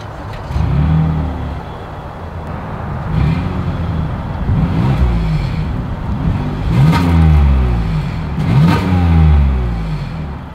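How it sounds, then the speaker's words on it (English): A 2022 Toyota Highlander XSE exhaust at idle, heard close, with several revving blips that rise and fall, each followed by a return to the steady rumble. "As always, here is that exhaust clip."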